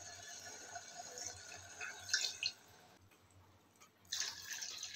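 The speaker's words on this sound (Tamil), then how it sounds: "இப்போ இதே டம்ளரில் தண்ணி அளந்து ஊற்றிக்கலாம்." Water is measured with a tumbler and poured into soaked rice for tomato rice, pouring and trickling in bursts, with a louder splash midway and another stretch of pouring near the end, close by and moderately quiet.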